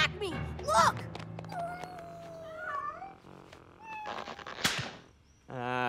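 Cartoon cats in the Kid vs. Kat animated series meow and yowl in several high, wavering cries, loud and close, mixed with a thump and a sharp hiss-like burst near the end.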